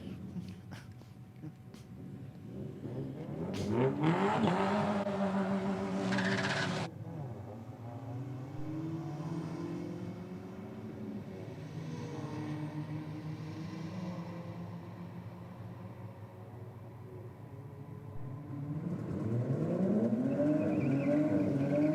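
A Toyota Crown and a rival car drag racing at a strip, a broad roaring engine surge with rising revs building around the middle, then continuing engine drone and a second loud acceleration near the end.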